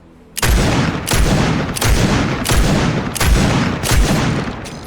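A scoped revolver fires six heavy single shots in Fortnite at an even pace of about one shot every seven-tenths of a second, each loud and close with a booming tail.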